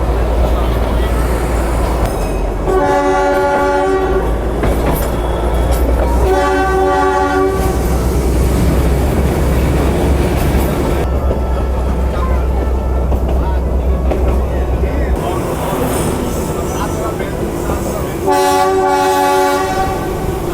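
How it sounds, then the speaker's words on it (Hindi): The Darjeeling toy train runs on its roadside line on the NJP to Darjeeling route, its horn blaring loud and close in three long blasts over steady rumbling and clattering, with someone talking throughout. "रोड के साइड बाय साइड ही हमारी टॉय ट्रेन भी चल रही है।"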